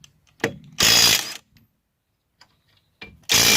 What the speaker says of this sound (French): Maintenant, on va tester le desserrage sur les boulons de roue.